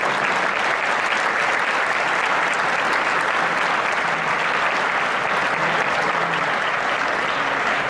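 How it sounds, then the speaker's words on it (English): A luncheon audience at a 2014 Trans Summit applauds loudly and continuously, a thick, steady roar of many hands clapping without a break. "Give yourselves a big round of applause."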